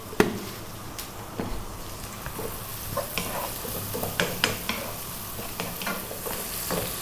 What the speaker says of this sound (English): we're going to throw these onions around for about 3 or 4 minutes